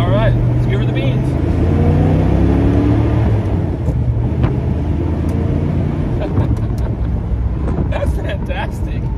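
A 1957 Ford Thunderbird with a rare three-speed manual transmission and factory overdrive accelerates hard, a loud, close engine roar rising through gears with wind noise, while a person talks over it.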